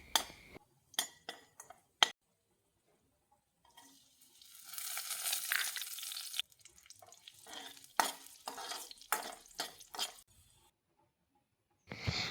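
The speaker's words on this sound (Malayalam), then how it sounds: "ഇനി അതേ എണ്ണയിൽ തന്നെ കുറച്ച് കാഷ്യൂനട്ടും കിസ്മിസും കൂടി" Cashew nuts and raisins frying in oil, in the same oil used for onions, for a simple biryani: bursts of spoon clinks and scraping around a sustained sizzle, quiet stretches between.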